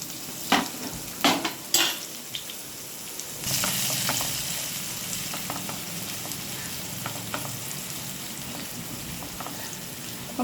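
Curry leaves, chili, onion and garlic fry in a pan for a dahi tikhari tempering, opening with several sharp crackling bursts that give way to a steady, dense sizzle, close and continuous, with no voices.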